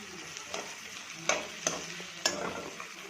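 Onion and tomato with salt cooking in a pan for prawn masala, a low steady sizzle broken by three sharp scrapes and clinks of a stirring spoon, close up with no voices.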